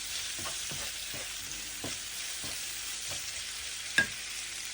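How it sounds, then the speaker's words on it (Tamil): Crushed ginger and onions sauté in a pan with a soft, even sizzle, punctuated by regular spatula scrapes and one louder knock near the end; no talking. "போட்டு எல்லாத்தையும் நல்லா வதக்குவோம்"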